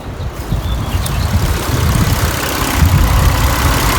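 A car engine idles at warm-up with an oil pressure warning light on, a steady low rumble and an even, continuous throb, loud and close under the hood, with no talk over it.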